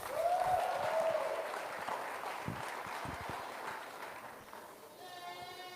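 Scattered applause from the audience at a 4-H market goat show, modest and fading, mixed with goat bleats, shuffling hooves and background chatter.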